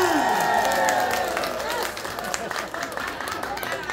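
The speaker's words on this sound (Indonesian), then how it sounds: "Tepuk tangan." An audience at a Sundanese religious gathering claps and cheers, a busy mix of clapping and crowd voices lasting several seconds, with people talking and calling out throughout.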